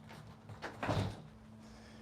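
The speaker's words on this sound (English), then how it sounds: "It helps if you unlock the door." A door in a vacant house's entryway is unlocked and swung open, giving one fairly loud thump-and-rattle burst near the middle over a steady low hum.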